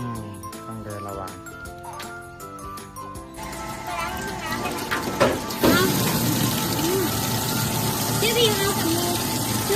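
Clean water running to wash a soaped wound, a continuous gushing and splashing stream that grows denser and louder partway through, heard under people talking.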